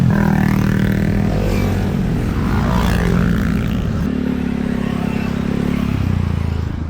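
Motorcycles rumble and rev steadily along a Sierra Madre mountain road, a dense continuous engine drone with shifting pitch and some clatter, close and loud throughout.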